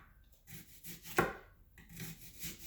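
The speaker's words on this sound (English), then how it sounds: "Now we're going to slice the white onions." A knife slices white onions on a cutting board, making a few soft, close strokes and one sharper chop in the middle, quiet and with no talking.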